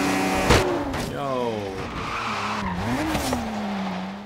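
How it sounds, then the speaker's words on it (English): Cars crashing and skidding in the racing game Forza Horizon 3, with a BMW E46 M3 Rocket Bunny in the race. Sustained engine and tire noise carries a sharp impact early on. A voice talks over the racing throughout. "They crashed into me."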